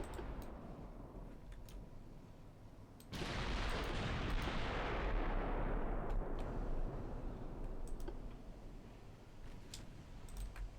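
Naval gunfire in Ultimate Admiral Dreadnoughts: a loud, broad boom that bursts in suddenly and rolls on as a long, rumbling roar before slowly fading, with faint sharp cracks scattered through it.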